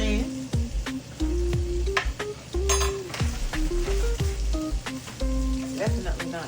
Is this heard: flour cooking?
yes